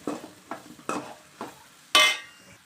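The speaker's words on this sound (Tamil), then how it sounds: "இதை அப்படியே நல்லா பரட்டி விட்டுக்கிடுவோம்" Soya chunks frying in a pan are stirred with a utensil, giving five scraping strokes at a steady rhythm over a soft sizzle, the last stroke the loudest.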